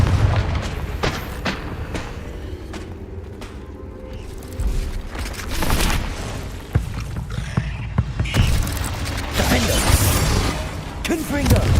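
Confringo spell blasts going off in Hogwarts Legacy combat: repeated booms and sharp explosive cracks over a rumbling backdrop, while a person talks and shouts spell names throughout.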